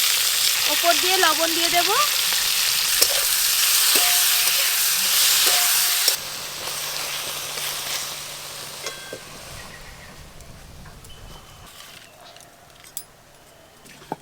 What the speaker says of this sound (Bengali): সাদা তেল, তেল গরম হয়ে গেছে, কোয়া রসুন ছাড়ানো আছে দিয়ে দেব, গোটা গোলমরিচ, 4টে শুকনো লঙ্কা, কেটে রাখা টমেটো